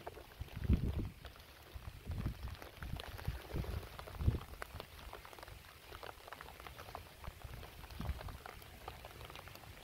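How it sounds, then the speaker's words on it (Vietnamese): Heavy rain pours steadily during the rainy season outdoors where frogs are being fished, a dense, continuous patter with irregular louder splashes and gusts, fairly near and without voices. "mưa gió quá"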